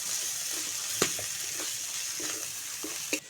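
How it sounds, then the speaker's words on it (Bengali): Spices such as turmeric and salt being fried and stirred in a pan: a steady loud sizzle with occasional scraping clatters of the spoon against the pan. "তো এই মশলাগুলো একটু নেড়ে চেড়ে নিচ্ছি।"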